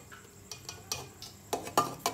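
A spoon scrapes and clinks against a pot while thickened milk is stirred for phirni, a series of short irregular knocks and scrapes at close range, moderately quiet, with no talking.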